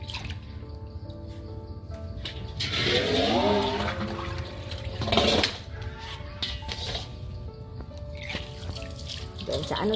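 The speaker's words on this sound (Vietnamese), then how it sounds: "Xả nước khác vô em rửa nữa nè" Tap water runs into a sink to rinse grated coconut for coconut jam, a steady splashing stream with brief surges and dripping, close by, with no talk.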